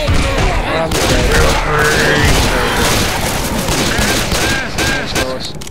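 Rapid, dense gunfire in Left 4 Dead 2 rattles on loudly and continuously, with overlapping shots and booms over game noise. Voices are faintly mixed in.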